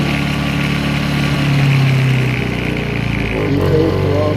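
A Honda EU2000 inverter generator engine running steadily in snowy weather, a close, even hum with a faint pitch shift partway through.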